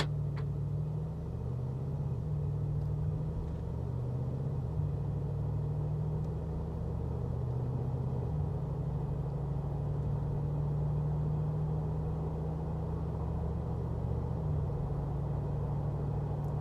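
A 2019 Mercedes-Benz G63 pulls away and drives on, heard from inside as a steady low engine rumble with shifting tones, continuous and fairly loud, with no talking.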